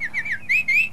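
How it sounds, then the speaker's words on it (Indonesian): Birds in a cartoon chirp in a quick run of bright, high tweets, several short rising and falling calls in close succession, clear and alone. "Jang, sepertinya di atas ada burung."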